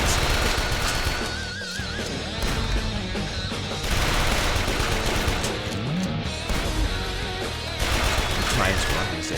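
Pistol gunfire rings out repeatedly in the indie video game Bob the Schizo, mixed into a dense, loud game soundtrack with horse whinnies and hoofbeats.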